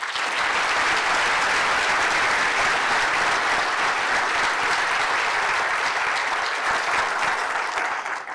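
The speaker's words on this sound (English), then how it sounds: "Can we please give a round of applause to the remaining panelists?" An audience at a law lecture applauds panelists with a steady, dense round of clapping that holds at full strength for about eight seconds before easing slightly at the end.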